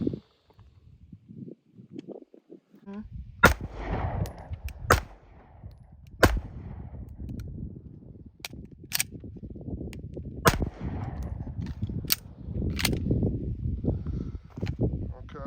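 A Sig P320 pistol fitted with an ARC Division ported slide and barrel fires several sharp, loud shots spaced a few seconds apart, with rustling handling noise and low background rumble between them.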